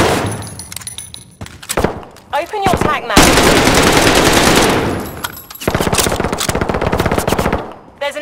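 Gunfire in a shooter video game: sharp single shots, then sustained automatic bursts at close range, with a brief spoken line in between and loud rattling volleys dominating the second half.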